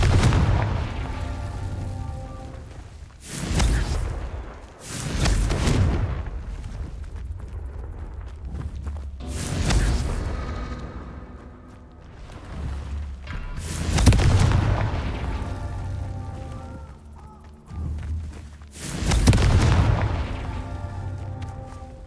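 Confringo spell explosions in the Hogwarts Legacy video game: about six heavy, booming blasts, each with a rumbling decay, repeating every few seconds over continuous game ambience.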